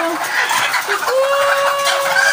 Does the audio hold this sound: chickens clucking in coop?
yes